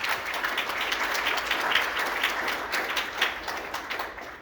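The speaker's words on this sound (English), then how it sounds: "Give yourselves a big round of applause." Audience applause at an inauguration and internship completion ceremony, a dense, sustained round of clapping from many people that carries on steadily throughout.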